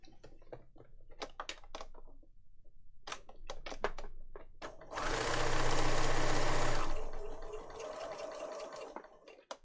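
A sewing machine stitching around the edge of a handmade lap book journal; a run of sharp clicks and taps leads into a loud, steady two-second burst of close mechanical whirring before it stops.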